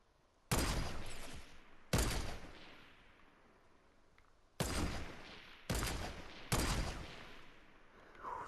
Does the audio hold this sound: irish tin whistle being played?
no